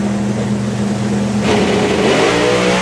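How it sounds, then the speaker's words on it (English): A turbocharged Ford Mustang and a supercharged Chevrolet Camaro drag racing in qualifying at a European drag strip, one loud engine revving hard and climbing in pitch with a surge midway, close and dominant. "the Turbo Mustang taking on the supercharged Camaro for the number 1 spot in qualifying."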